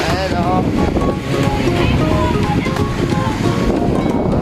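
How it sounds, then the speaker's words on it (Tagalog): Sea waves at low tide wash steadily along a distant shoreline, a broad continuous surf with gusty wind buffeting the microphone and faint murmuring voices in the background. "Ah, ang ganda ng dagat dito sa amin."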